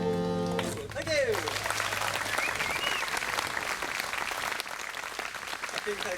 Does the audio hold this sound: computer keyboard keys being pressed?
no